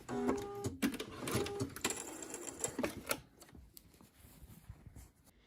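A sewing machine runs a short burst of stitching through fabric while a dressmaker eases a sleeve into an armhole. The mechanical whir and clatter is close and lasts about three seconds, then gives way to quieter handling noises.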